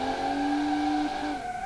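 Tires of an Audi RS6 in the BeamNG video game squeal under hard braking on a race track, a sustained steady whine lasting over a second, then fading with engine tone beneath.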